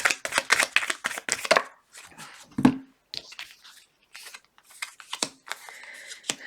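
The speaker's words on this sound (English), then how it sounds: "One more shuffle, please." Tarot cards being shuffled by hand, with a run of quick papery riffles and flicks, then a softer tap, followed by further intermittent card slides and snaps. The sounds are close and fairly quiet, with no talking over them.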